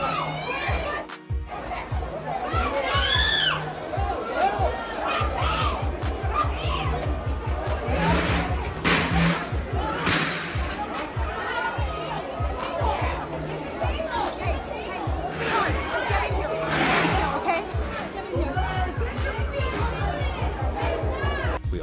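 A street crowd in Halloween costumes in Ybor City erupting into panic during a shooting, with dense overlapping shouts, screams and chatter that hold steady for about twenty seconds, and a few sharp bursts rising out of the din.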